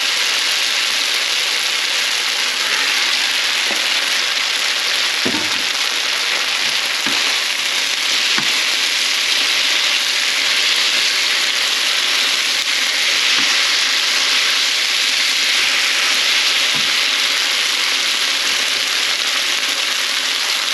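Glass noodles with shrimp and bok choy stir-fry in a hot pan, giving a loud, continuous roar of sizzling with occasional thuds and scrapes from tossing, steady throughout, with no speech.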